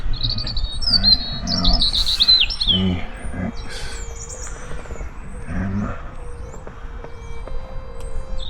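A blackbird sings in a churchyard in Hanslope, clear fluting phrases and chirps close by, with a vehicle passing faintly behind.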